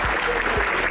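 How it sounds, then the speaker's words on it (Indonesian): A workshop audience at a session on drafting a regional macroeconomic framework applauds in a brief, dense burst of many hands clapping together, steady and fairly loud for about a second. "Tepuk tangan untuk semuanya."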